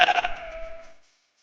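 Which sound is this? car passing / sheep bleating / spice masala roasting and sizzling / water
sheep bleating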